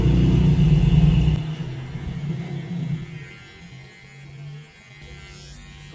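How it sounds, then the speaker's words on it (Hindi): An electric hair trimmer buzzes loudly at first, then its drone drops away into a quieter, rumbling hum with fainter buzzing over the remaining seconds. "ट्रिमर उठा के अपना ऑपरेशन खुद ब खुद जारी हो चुका है"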